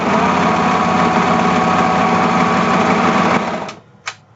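A serger overlock sewing machine stitches fabric in a loud, fast, even mechanical whir that runs unbroken for about three and a half seconds, then winds down and stops with a single small click after.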